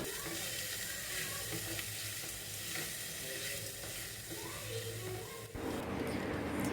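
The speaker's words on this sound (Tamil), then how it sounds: "இது மாதிரி சிம்மில் வச்சு லைட்டாக வதக்கிக்கலாம்" Leftover rice with turmeric sautéing in a pan over low heat, a soft steady sizzle with light stirring scrapes, close and fairly quiet.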